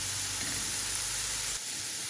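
Chicken pieces frying in a pan, giving a steady close sizzle and hiss that drops slightly near the end.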